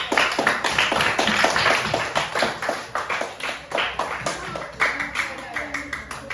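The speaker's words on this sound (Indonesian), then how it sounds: "Kita kasih tepuk tangan dulu" A classroom of primary school pupils claps for group 3, a rhythmic unison beat of distinct, evenly spaced claps, fairly close, with voices mixed in.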